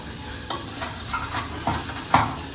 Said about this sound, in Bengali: এখানে পেঁয়াজ কালি আলু ভাজা হচ্ছে